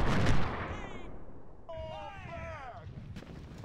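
Cannon fire in the Civil War strategy game Ultimate General: Civil War, a booming artillery blast at the start followed by rumbling battle noise, with a whistling, warbling effect rising over the fading din.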